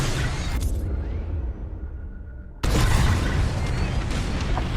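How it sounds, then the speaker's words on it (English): Bombs explode in the space combat game Star Wars: Squadrons. One deep boom rolls off and fades, then a second heavy blast hits abruptly with a rumbling roar. Both are loud and close, with no talk. "On my mark, it's bombs away."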